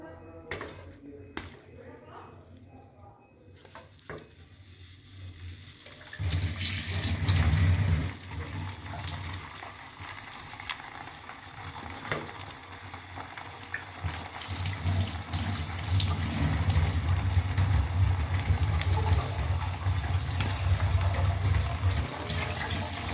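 Raw meat bought at a market being rinsed under running tap water in a kitchen sink, a steady gushing splash that swells louder after a quiet start and continues to the end, with some talk underneath.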